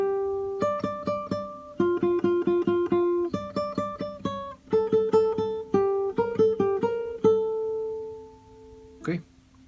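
Acoustic guitar picks a phrase of a song note by note, clear plucked tones in a steady melodic rhythm, played alone and close, ending with a brief strum.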